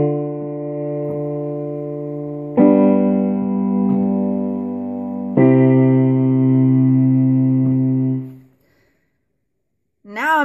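Three sustained chords of a ii-V-I progression in C, played with the roots dropped an octave, each held about two and a half seconds in a clean, steady tone before fading to silence, with a brief sound at the very end.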